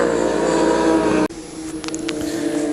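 Racing motorcycles in the Spa-Francorchamps 6-hour endurance race, a loud engine roar that cuts off abruptly under hard braking, then quieter rising engine notes resume.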